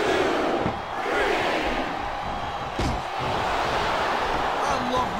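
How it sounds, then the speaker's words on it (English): A capacity wrestling arena crowd in the video game WWE SmackDown vs. Raw 2007, a steady roar of cheering and shouting throughout, with a brief slam-like thump and commentators talking over it. "This capacity crowd is making their opinions."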